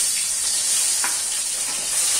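Prawns frying gently in a pan, not deep-fried, with a steady bright sizzle and hiss close by and a few faint stirring scrapes.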